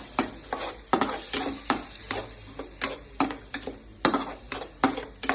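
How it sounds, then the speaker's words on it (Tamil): Ginger and garlic sauté in a hot pan, with rapid repeated scraping stirs of a utensil over a steady sizzle, close and fairly loud, with no voices. "இஞ்சி பூண்டை எல்லாம் வதக்கிட்டு கொஞ்சம் பச்சை வாசம் வர மட்டும் இருக்குங்கப்பா."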